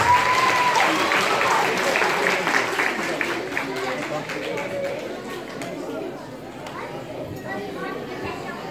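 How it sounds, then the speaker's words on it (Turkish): Sustained applause from a wedding crowd, steady clapping that holds for the whole stretch, with chatter and voices mixed underneath. "Bir alkış alabilir miyim bu güzelliğe?"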